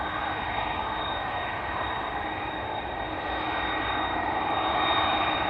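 A KLM Boeing 777-300 jet at Amsterdam Schiphol Airport produces a steady, continuous roar that holds at a moderate level with a faint high whine, heard alone without talking.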